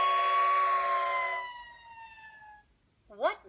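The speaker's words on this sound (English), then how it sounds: "What makes that sound? Right, a police car." A toy police car siren from a Mickey Magic Pen English learning toy sounds a wailing tone that fades out, followed by a brief high chirp at the end.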